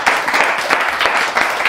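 Roast audience greeting Hasan Piker with a short, loud burst of applause, the clapping dense and close with slight pulsing surges over less than two seconds, no voices heard.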